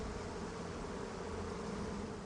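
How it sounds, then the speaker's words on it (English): Giant bees inside a beehive in the Divinity: Original Sin video game make a steady, faint droning buzz that holds evenly for the whole stretch, with no talking. "That is some big ass bees, man."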